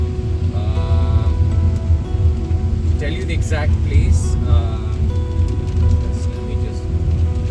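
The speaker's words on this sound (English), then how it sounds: "Yeah, it's raining, so we had to slow down a bit just to drive safe." Rain falls steadily during a family car road trip from Hyderabad to Goa along the Karnataka–Maharashtra border, a constant hiss with engine rumble underneath, while someone talks over it throughout.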